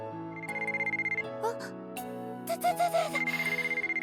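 A mobile phone rings with a repeating electronic melody that pulses steadily over quiet background music.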